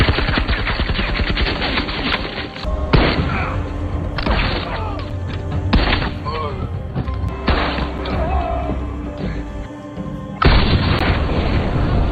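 Loud, continuous battle din from the war film Burial, Soviet troops fighting German forces, with dense rattling gunfire and booming explosions filling the whole stretch, cut by a few abrupt shifts.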